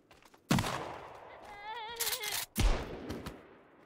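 Two loud gunshots ring out in Sons of the Forest, about two seconds apart and close by, with a warbling electronic tone between them.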